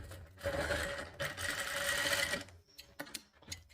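Close sewing machine running press stitching along the side joint of a katori blouse, a steady mechanical whir in two sustained runs, then a few short bursts as the fabric is adjusted.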